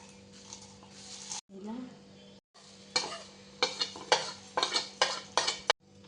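Roasted curry leaves crunched and crumbled by hand, giving sharp, crisp crackling bursts that grow busier toward the end, over a steady low kitchen hum, with brief gaps of near silence.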